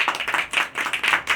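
A group claps rapidly in a classroom, a short burst of many hands applauding up close with uneven rhythm.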